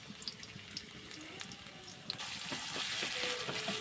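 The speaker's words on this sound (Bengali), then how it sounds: "পেঁয়াজগুলো আমি ভাজা ভাজা করে নিচ্ছি" Chopped onion and garlic frying in hot oil in a kadai, soft scattered crackles and stirring taps building into a louder continuous sizzle.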